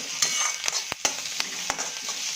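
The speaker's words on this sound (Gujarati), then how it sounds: "ફૂડ રાખીશું તો સતત આપણે આને કન્ટિન્યુ હલાવતા રહેવું પડશે" A spoon stirs quinoa upma with vegetables in a hot pan, giving a few close scraping strokes over a continuous sizzle of frying, with no talking.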